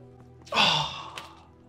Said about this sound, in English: She's gasping.